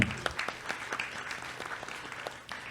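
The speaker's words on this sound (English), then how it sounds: "So we can have a big round of applause for the entire panel." Audience at a conference panel session applauds, a short burst of steady clapping from a modest crowd, heard at moderate distance.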